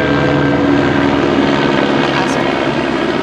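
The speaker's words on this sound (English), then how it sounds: "It's that helicopter that's been following us around every shoot." Helicopter flying overhead, a loud continuous rotor chop and engine drone that stays steady and close throughout, with voices talking beneath it.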